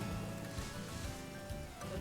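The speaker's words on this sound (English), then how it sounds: "Ah, yes, the rain." Rain weather effect in the game Pokémon Violet: a quiet, continuous patter and hiss of falling rain, steady and even throughout with no speech.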